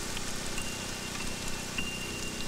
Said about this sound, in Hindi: बाहर इतनी ज़ोर की बारिश हो रही है